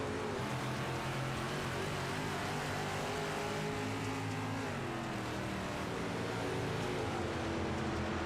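Dirt late model race cars in the iRacing game running nose to tail at Volusia Speedway Park, a loud, steady, layered engine roar with overlapping revs that persists throughout.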